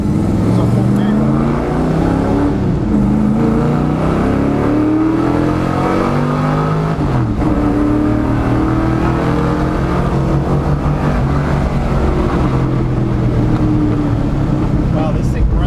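A 1974 Dodge Dart with a full manual transmission and a new distributor runs close by. Its engine revs loudly up and down in repeated pulls, with voices faintly underneath.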